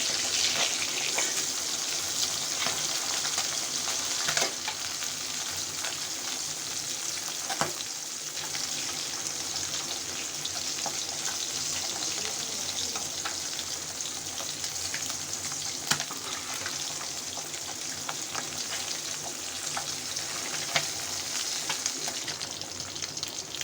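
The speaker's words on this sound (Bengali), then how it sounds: "অল্প অল্প করে ভেজে মাছটা একটু ভালো করে ভাজতে হবে।" Tengra fish fry in a pan of oil with a dense, steady sizzle that runs unbroken and loud throughout, with occasional faint clicks of a utensil and no talking.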